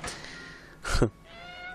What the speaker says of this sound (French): Ces petits miaulements de lutin hyper sympathique à l'oreille.